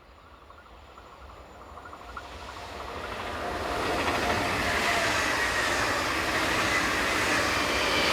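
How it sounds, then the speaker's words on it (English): Electric locomotive 146560 hauling an express bound for Dresden approaches and swells into a loud, steady rumble and rush of passing rail cars, building from distant to close. "Locomotive 146560 handles this express bound for Dresden"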